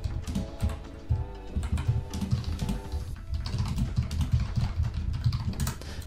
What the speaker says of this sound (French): Je vais taper création d'un dictionnaire.